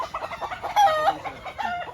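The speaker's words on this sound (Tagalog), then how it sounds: "napakadaming manok doon" White Kelso gamefowl, chickens and roosters at a farm, clucking repeatedly with a louder crow rising in the middle. The birds sound close and alone, with no voices over them.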